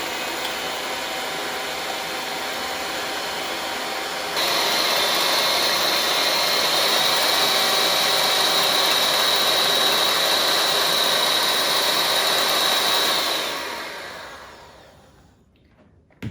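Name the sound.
electric mixer frothing egg whites for almond bundt cake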